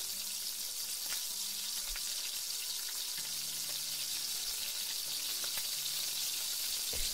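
Rice for Chinese fried rice sizzles and fries in a hot pan, a steady close hiss running throughout with occasional soft stirring scrapes and clicks.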